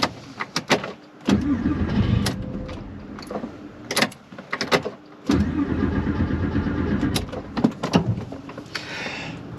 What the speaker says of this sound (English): I got it to crank again